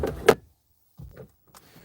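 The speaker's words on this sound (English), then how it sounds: "So to open the door," The door of a Lotus Eletre is opened with its latch: a short mechanical click and release, then softer muffled thuds and faint movement after a pause.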